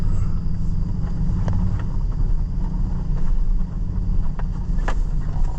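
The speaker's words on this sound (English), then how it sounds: "It's kind of foolish to be driving out here with a pickup" Pickup truck in two-wheel drive pushing through a soaking wet field, a steady low engine drone with wind buffeting the microphone and a few brief knocks and splashes.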